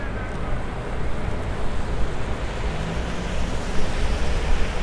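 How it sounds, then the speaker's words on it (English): Strong wind gusts buffet the microphone on a New York City street during Winter Storm Elliott, a loud, continuous roar that swells and surges throughout, with no voices. "Ooh, that wind. Serious."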